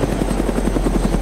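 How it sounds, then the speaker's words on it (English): A helicopter in the video game Arma II DayZ flies close overhead, its loud rapid rotor thumping pulsing steadily under a constant engine whine. "The helicopter's gonna crash into us."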